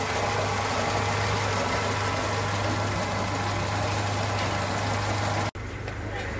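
Opel car with a gasoline engine idling at a car market, a steady low hum under background chatter, with a brief break near the end.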